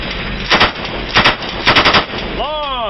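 Machine guns fire from aboard a vessel at sea, including a Mk 19, M2 Browning and M240B, in several short bursts of rapid loud shots against steady engine and water noise, ending in a sweeping whine.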